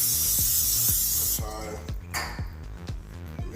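Coconut oil cooking spray hissing out of a can in a long, loud, steady burst for about a second and a half, then cutting off, leaving a faint clatter and rhythmic music-like thumps beneath.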